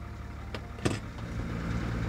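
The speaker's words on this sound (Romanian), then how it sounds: "hai să vedem cum merge camionul." An Iveco army truck converted into a camper drives along, its low steady engine rumble and road noise filling the cabin, with a brief mechanical clunk partway through and no talking.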